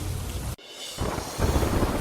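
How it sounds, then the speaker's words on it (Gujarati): Heavy monsoon rain at Pavagadh with thunder, a loud rumbling roar and downpour that cuts out abruptly, then returns and swells, with no voices. "ભારે વરસાદથી પાવાગઢના પગથિયા પર પાણી વહેતા થયા"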